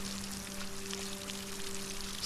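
Water pours steadily and continuously onto soil while plants are watered on a self-built solarpunk farm, a close, even rushing with no voices.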